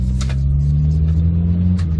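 A 1972 Austin Maxi 1750 cruises along a country road, a low steady engine rumble and road noise heard from inside the cabin, even and continuous.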